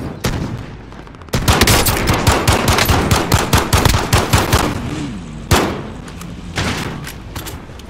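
Automatic gunfire in the video game Resurgence, a long loud rapid burst of close shots followed by a few shorter bursts, with little talk.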